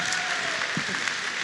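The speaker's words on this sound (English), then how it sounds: "I want that same clap." Audience at an epic fantasy author panel applauds in a brief, steady burst of dense clapping, fairly loud and even throughout.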